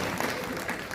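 Dense, steady applause from a crowd at a political event honoring a higher education minister in India, loud and continuous throughout the short moment with no pauses.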